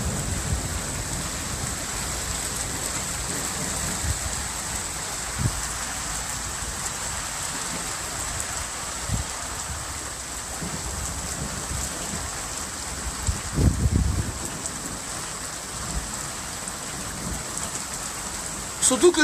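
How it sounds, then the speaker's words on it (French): Heavy rain pours steadily through a thunderstorm in the Rhône-Alpes, a dense close hiss with low rumbles and a stronger gust of noise midway, while a voice speaks faintly. "Gros orage. Waouh, regardez, vous l'avez vu celui-là? Serpès, grosse pluie, soleil en même temps"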